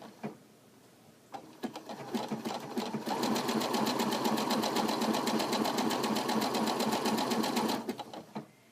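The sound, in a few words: sewing machine stitching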